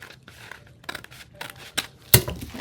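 Scissors trimming excess lace off a fabric pocket tag, a few soft quiet snips and rustles ending in one louder, sharper cut near the end.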